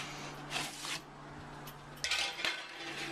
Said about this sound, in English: take out your top pan, turn it, take out your bottom pan, turn it, move it to the top